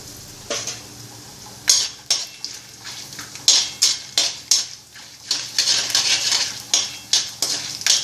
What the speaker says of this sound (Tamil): இப்போ எண்ணெய் காஞ்சிடுத்து. கடுகு, உளுத்தம்பருப்பு, கடலைப்பருப்பு, வேர்க்கடலை வேணும்னா போட்டுக்கோங்க.